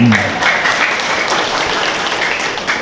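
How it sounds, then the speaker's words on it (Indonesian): Audience applause at a talk or seminar, a steady wash of clapping from a crowd that holds evenly for nearly three seconds, with a brief voice at the start. "Oke, tepuk tangan dulu."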